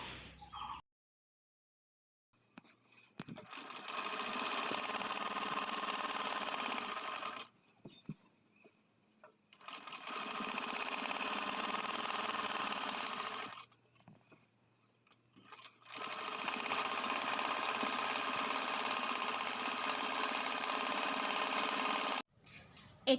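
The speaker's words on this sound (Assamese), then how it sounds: "এতিয়া চিধাকৈ পূৰা চিধাকৈ চিলাই দিম।" Sewing machine running straight seams along an Assamese mekhela, in three long continuous bursts of steady motor whirring separated by short pauses, close and fairly loud, no talking.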